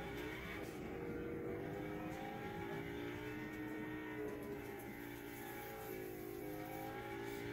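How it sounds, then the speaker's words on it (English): Lamborghini sports car engine in the Fortnite video game, a continuous droning motor with a wavering, rising and falling pitch like steady acceleration, held fairly quietly for the whole stretch with no talk. "I like getting the Lambo. It's fast, has a booster, but it's loud."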